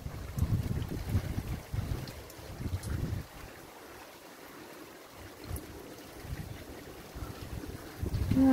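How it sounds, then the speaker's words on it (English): Strong, gusty wind roars and buffets the microphone outdoors in the countryside on a cold day of steady rain, with deep rumbling gusts that ease briefly midway before building again; no one speaks. "It's very windy and it's raining, non-stop rain, and it's a bit cold today."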